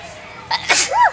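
A single sharp sneeze at the zoo, close and sudden, with a quick breathy intake followed by the burst, over faint background murmur.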